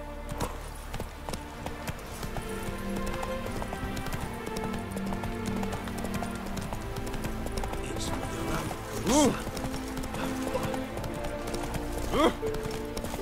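Roach the horse galloping in The Witcher 3: Blood and Wine, a continuous rhythmic clip-clop of hooves under game music and ambience, with a couple of brief whinnies and some speech.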